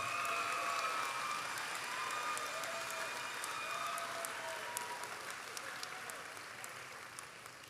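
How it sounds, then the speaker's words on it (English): Audience applause at a high school graduation ceremony, a dense, sustained clatter of many hands that thins gradually toward the end. "Let's give those students from Ebenezer a round of applause, please."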